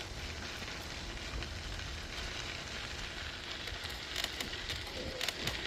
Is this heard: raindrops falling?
yes